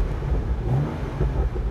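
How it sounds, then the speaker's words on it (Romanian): A BMW M235i convertible's six-cylinder engine revs up, a loud, close, rumbling drone with a smooth rise and swell under acceleration, heard alone without talk. "Observăm ce bine sună această motorizare și prin faptul că e în 6 cilindri,"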